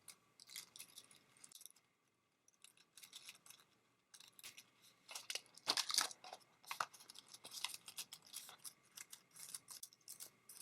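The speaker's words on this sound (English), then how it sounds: "I'm going to take my scissor and just cut that little piece off." Scissors snip and crunch through paper for a handmade paper flower, close up, in bursts of short crisp cuts and crinkles with pauses between, fairly quiet and with no voices.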